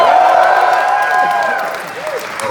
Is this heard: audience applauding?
yes